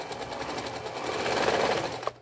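A sewing machine runs steadily, stitching the belly of a small fabric bird with short, tight stitches. The rapid mechanical whir is close and continuous and stops abruptly at the end.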